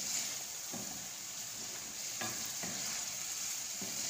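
Chicken cream handi cooks in a pan over a medium flame, a soft continuous sizzle with a few light stirring scrapes at intervals, no talking.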